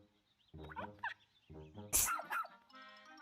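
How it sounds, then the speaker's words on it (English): A cartoonish dog in a video game gives a few short, bright barks and yips in quick bursts, clear and close against otherwise quiet game audio. "That's a cute doggy."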